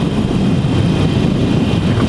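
A Harley-Davidson Iron 883 motorcycle roars at full throttle in fourth gear as its speed climbs, the engine a steady, loud low drone mixed with heavy wind rush and no pauses.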